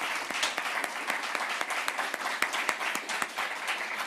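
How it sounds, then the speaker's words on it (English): An audience applauds to welcome a minister at a youth sustainability challenge finale, with steady, dense clapping filling the room for the whole stretch and a few sharper claps standing out. "So let's give him a round of applause as we welcome him."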